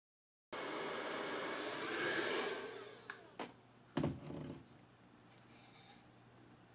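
A hair dryer blows steadily on a layer being dried, a sustained whooshing roar that swells, then gives way to a few clicks and thumps as it cuts off.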